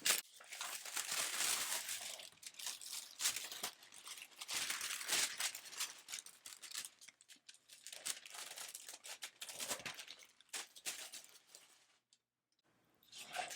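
Parchment paper slid out from under heat-transfer vinyl on a painted canvas panel, producing soft, irregular crinkling and rustling close by, with brief pauses and a quiet tail at the end.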